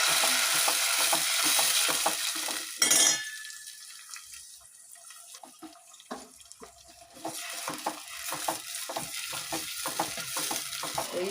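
Onion and tomato paste sauté in oil over a low flame, hissing steadily at first. The sizzle fades to a quieter, bubbling spell for a few seconds, then returns with a crackling spatter and soft stirring scrapes, heard close and without voices.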